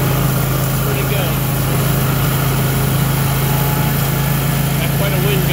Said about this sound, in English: a 44-inch blower on the X310, you know, 300 series John Deere is doing its thing